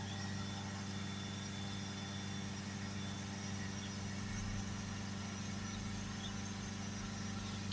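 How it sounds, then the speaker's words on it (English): Ford Galaxy 2.0 engine held steady at around 3000 RPM, a continuous even drone with a strong low hum and no talking. "pumping the accelerator up, and now we're just holding it just there around the 3000 RPM mark"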